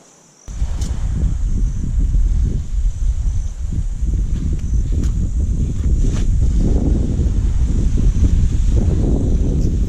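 Wind blows across a beach campsite on an uninhabited island, a steady close rumbling buffet against the microphone after a quiet start, with faint insect-like chirps high above and no talking.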